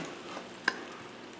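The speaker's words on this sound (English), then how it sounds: "this is preheated to medium. Gonna put the butter side down" Buttered bread sizzles quietly in a pan preheated to medium, giving a soft, steady frying hiss with one sharp click or tap partway through, close by and faint, with no talking.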